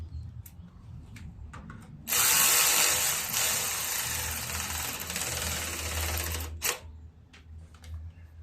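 A power tool driving down carburetor bolts on an 8 horsepower Coleman generator, one loud continuous whirring run of about four seconds, close up, with faint clicks and handling before and after.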